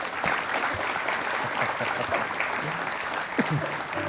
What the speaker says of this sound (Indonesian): Tepuk tangan dong untuk KPI.